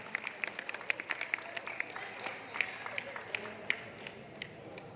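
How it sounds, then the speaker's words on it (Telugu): An audience at a Carnatic music concert gives a round of applause, scattered individual claps that are fairly distinct, quiet and somewhat distant, continuing for several seconds. "సో స్వామీజీ వారికి ఒక్కసారి అందరం బిగ్ రౌండ్ ఆఫ్ అప్లాజ్."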